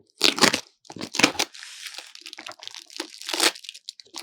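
Sellotape being ripped off a YouTube Silver Play Button box in several sharp, close bursts of tearing and crinkling cardboard, separated by short pauses.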